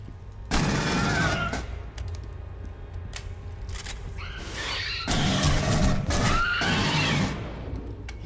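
Gunfire from the sci-fi shooter game Aliens: Colonial Marines comes in loud, close bursts of rapid automatic shots, with several separate volleys broken by short gaps and no voices.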